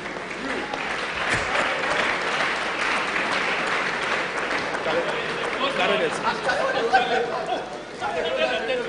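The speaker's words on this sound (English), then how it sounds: "A round of applause for them" A seated audience at an entrepreneurship series event claps steadily and warmly throughout, with scattered chatter and voices mixed into the applause.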